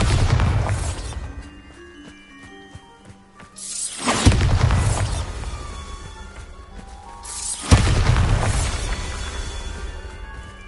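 Bombarda spell explosions from Hogwarts Legacy on PS5 hit as two deep, booming blasts a few seconds apart, each with a crashing rumble that trails off under steady game ambience.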